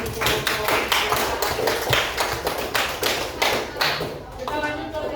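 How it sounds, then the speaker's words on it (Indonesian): A classroom group claps after finishing a presentation at a vocational school, brisk uneven hand claps in a close room, steady for several seconds and then trailing off. "Tepuk tangan untuk kelompok."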